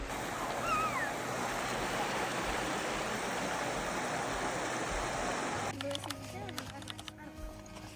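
Water from a shower runs in a steady, hissing rush, loud and close and filling the space, with people talking underneath and a brief clatter near the end.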